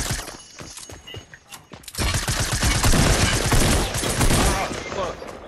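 SMG gunfire in Fortnite at a gas station, a dense rapid burst swelling loud after a quieter opening with scattered shots, continuing steadily to the end.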